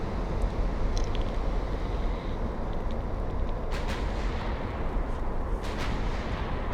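Heavy naval gun salvos from warships in Ultimate Admiral Dreadnoughts, a constant low rumbling barrage with a few brief sharper reports cutting through, no voices.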